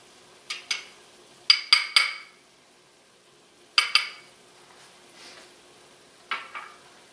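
Wire whisk clinking and scraping against a pan as flour is worked into a roux, a few short bright clusters of metallic taps separated by pauses, close and fairly quiet.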